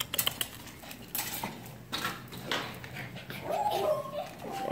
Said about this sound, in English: There's two lovely little puppies.